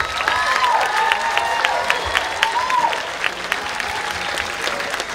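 Audience at a 2023 school fashion show runway event applauds steadily, a dense wash of clapping with some cheering that holds for several seconds.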